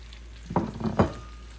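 Potato slices for Pomme Anna fry in butter in a pan, giving a low sizzle with two short bursts of scraping and spattering close by.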